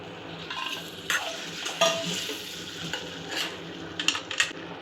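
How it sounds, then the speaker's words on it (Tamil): Potatoes and onions sautéed together in a pan for a potato fry, with a soft sizzle underneath and a few scraping stirs and light clinks of the utensil against the pan. "உருளைக்கிழங்கு சேர்த்ததுக்கு பிறகு எல்லாத்தையும் நல்லா வந்து ஒன்னோட ஒன்று மிக்ஸ் ஆகிற அளவுக்கு நல்லா வதக்கி விடுவோம்"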